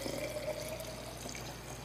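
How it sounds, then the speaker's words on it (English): Milk poured into a clean glass jar, giving a steady, soft liquid stream with a faint rising tone as the jar fills, close and continuous with no talk. "Pour it in a jar, a nice clean glass jar."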